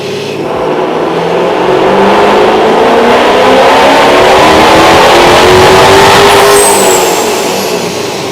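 A 2018 or 2019 Dodge Challenger with a 5.7 engine and a Vortech supercharger runs on a dyno, its loud engine note rising steadily in a long wide-open pull over several seconds and then easing off, with no voices.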